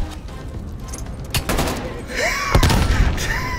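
Gunfire and a grenade blast in the Black Ops Cold War video game: a loud, dense fusillade of shots with a heavy boom partway through, close and continuous, with no talk.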